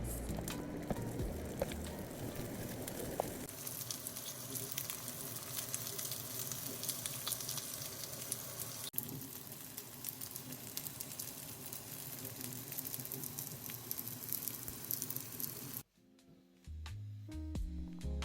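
Frozen food frying in a pan, a steady close sizzle and crackle that runs on evenly, then cuts off near the end with a brief quieter stretch.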